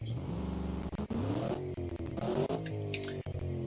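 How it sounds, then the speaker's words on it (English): A Cosmo Street car with quad exhaust revs up in short bursts, the engine note climbing and dropping several times close by, with sharp clicks between revs. "I'll give you a little rev."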